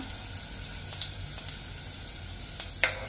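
Chopped ginger sizzles in hot cooking oil in a pan for Filipino ginataang gulay, with a steady crackling fry and a few small pops and stirring taps.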